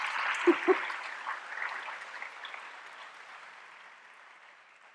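A school audience of seniors claps together, a thick burst of applause that starts strong and gradually fades away over a few seconds.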